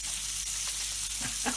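Beef stew chunks sizzling and frying in a pan, a steady close hiss throughout with a couple of brief stirring clatters near the end.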